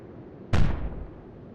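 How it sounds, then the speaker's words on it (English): A warship in the naval game Atlantic Fleet fires an illumination round, a single loud sharp boom that decays over about half a second against a quiet background. "Sarhost is firing illumination rounds."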